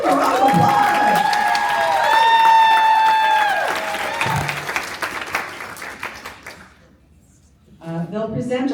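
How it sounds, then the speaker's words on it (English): An audience at a caregiver conference applauds for the keynote speakers, the clapping mixed with music and announcing voices and fading briefly near the end before sound resumes. "Give them a round of applause!"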